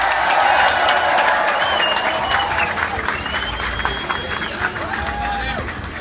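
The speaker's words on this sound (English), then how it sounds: "Give him a big round of applause." Crowd at an End Siege on Gaza rally bursts into sustained applause and cheering, dense clapping with whistles and shouts over a loud outdoor hubbub, holding steady throughout.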